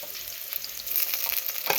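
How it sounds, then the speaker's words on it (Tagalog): Meat sizzles in a pan with onion, ginger and garlic, a dense close frying hiss with small crackles and a brief stir, with no voices. "Sibuyas, luya, bawang. Saka ilagay natin yung kanyang karne."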